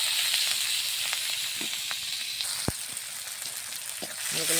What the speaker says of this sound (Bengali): কড়াইয়ে তেল দিয়ে দিয়েছি, পেঁয়াজগুলো দিলাম।